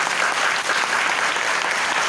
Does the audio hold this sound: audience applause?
yes